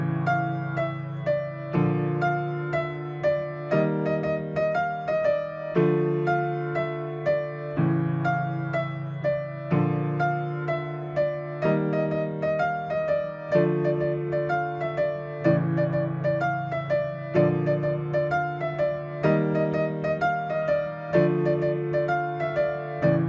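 Solo piano plays a Little Nightmares song, a steady, repeating pattern of chords and melody in regular phrases, close and even in loudness with no voices.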